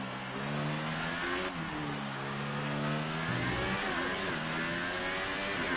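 Formula 1 car engine on board in the F1 2018 video game, revving high and climbing quickly through the gears with steady whining pitch shifts, loud and continuous without talk.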